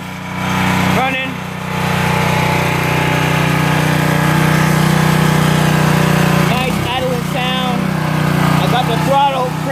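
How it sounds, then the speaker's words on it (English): Dewalt 3400 psi pressure washer's gas engine running steadily and loud, a continuous droning hum throughout, with brief voices breaking in near the end. "like I said, this is how it sounds. Running."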